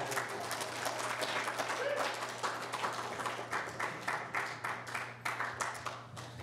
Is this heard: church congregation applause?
yes